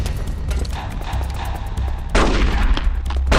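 Gunshots ring out in a firefight in Metal Gear Solid: The Twin Snakes, as repeated loud, sharp bursts over a rumbling background that grow denser and louder partway through.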